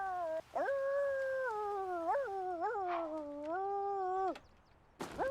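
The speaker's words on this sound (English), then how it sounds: "Be barked at by Alabama" A dog in a video game howls in long, drawn-out wavering tones, several sustained cries rising and falling in pitch, loud and close with no talk over them.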